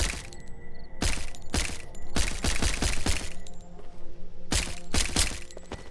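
Loud gunshots blast at electrical breaker boxes in Hotline Miami, sharp cracking reports arriving singly and in quick clusters of three or four, with a low electronic hum running beneath.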